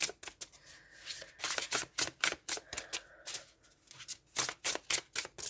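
Rapid riffling and slapping of a tarot card deck, repeated in quick bursts of crisp shuffling with brief pauses between.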